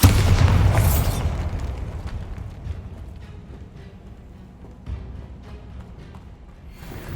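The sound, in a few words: Bombarda explosion spell in the video game Hogwarts Legacy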